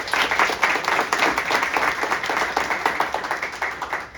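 An audience at a news conference for a school tutoring initiative in New Haven applauds, a steady dense round of clapping from a full room that carries on throughout without a break.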